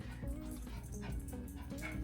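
A mini poodle yips and whimpers at her own reflection in a room, short high barks rising over a voice talking nearby.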